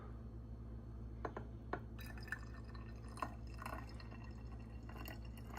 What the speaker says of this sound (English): I'm going to just be careful and pour them in this way